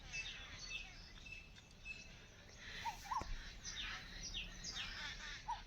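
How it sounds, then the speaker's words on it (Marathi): Faint morning birdsong: scattered chirps and calls drift from a distance over a soft hiss of insects, with no voices. "भरपूर असे पक्षी येतात, वेगळे वेगळे आवाज."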